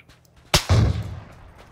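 Gunfire in a video game, heard as one sharp shot followed quickly by a second blast that trails off into a short, rumbling echo.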